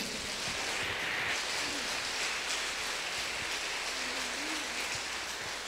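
A family worship congregation applauds in praise, a dense, even wash of many hands clapping that holds steady from start to finish, moderately distant, with no voices rising above it.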